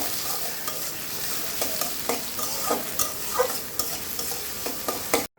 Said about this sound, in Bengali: পেঁয়াজটা একটু ভাজা হয়ে যাওয়ার পর এখন আস্ত সব গরম মশলা দিয়ে দিলাম, এলাচ, দারচিনি, লবঙ্গ,